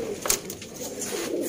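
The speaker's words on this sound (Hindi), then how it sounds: "टुनिया कबूतर दोस्तों।" Sialkoti pearl-marked pigeons coo in a short, soft burst close by, with a faint rustle and a few light clicks around them, and no voices.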